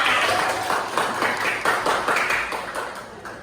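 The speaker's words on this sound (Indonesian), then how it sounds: "tepuk tangan untuk kita semua." A classroom of students claps together in a lively round, loud and close, with uneven rhythmic bursts throughout and no talk over it.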